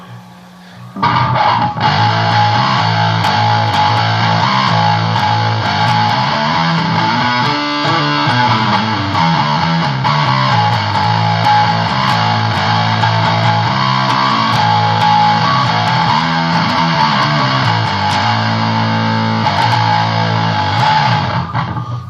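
A loud, sustained distorted bass guitar tone through a Metal Muff distortion pedal, with shifting notes and a thick, buzzing grind, droning steadily throughout.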